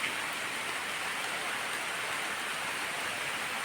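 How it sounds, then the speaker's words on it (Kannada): Heavy rain pours down outdoors in a town, a dense, unbroken hiss of falling water that stays loud and even from start to finish, with no voices. "ಫುಲ್ ಮಳೆ ಹೊಡಿತಿದ್ದೆ ಜೋರಾಗಿ"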